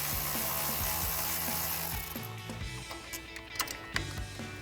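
A hand ratchet with a 10mm socket turns a bolt on an upper control arm bracket during a suspension lift install, giving rapid, close, rhythmic clicking that then thins to a few scattered clicks and knocks, with no talking.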